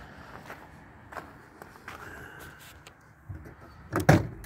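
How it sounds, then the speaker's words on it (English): An old 1965 Chrysler Imperial Crown car door unlatching and swinging open, with faint creaks and clicks building to a louder clunk near the end, close by with no talk. "Ooh, door's open."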